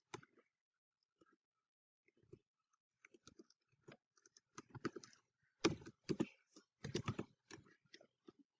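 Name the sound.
typing an email address on computer keyboard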